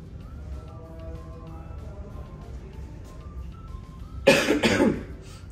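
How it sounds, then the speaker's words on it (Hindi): After a stretch of quiet background hum, a person coughs several times in a harsh, close burst near the end. "खांसी जो है ना आपके भाई की वो जा नहीं रही है"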